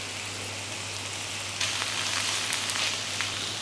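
Chopped onions fry gently in a pan with ginger-garlic paste, giving a continuous fine crackling sizzle at moderate level with a low steady hum beneath and no talking.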